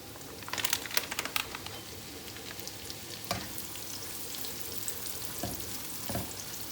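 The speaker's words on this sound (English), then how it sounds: "So we'll start off to fry the ikan bilis first" Ikan bilis (dried anchovies) frying in a little hot oil, a dense crackling sizzle with bursts of sharp spattering pops near the start and a few later, steady and close, without speech.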